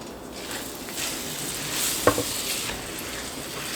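A pot roast sears in hot olive oil in a pan, a steady loud sizzle with a sharper hiss and crackle burst as the meat settles, close and continuous with no talking.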